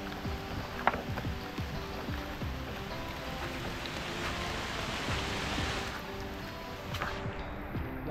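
Rain falls steadily, a constant hiss of drops with no one speaking.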